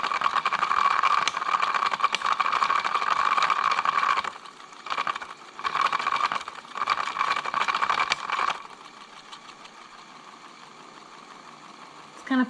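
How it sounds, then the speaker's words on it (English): A small Beauty Blender washing machine, held down while cleaning an oddly shaped sponge, runs with a steady mechanical whir and rattle that cuts in and out briefly, then settles into a lower, steadier hum. "Oh, the machine is moving everywhere."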